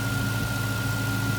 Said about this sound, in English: So she sounds like she's idling pretty well.